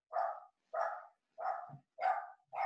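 A dog barks five times in an even rhythm, each bark short and sharp with clear gaps of silence between, heard fairly close and alone.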